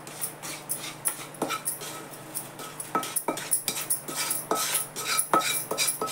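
Spiced puffed rice chivda being stirred in a large plate, with a spoon repeatedly scraping and clinking against the metal while the dry puffed rice rustles, close and fairly quiet in uneven strokes.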